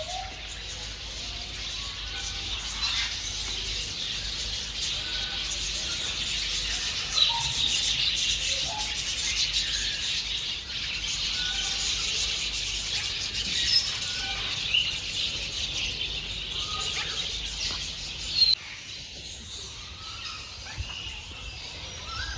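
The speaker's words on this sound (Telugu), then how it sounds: "ఇక్కడ అన్ని బర్డ్స్ ఉంటాయి." Birds chirping and calling at a bird park in Shirdi, a steady busy chorus of small calls with a few louder chirps standing out, fairly close and continuous with no talk.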